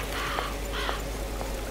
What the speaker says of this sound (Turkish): Kargalar.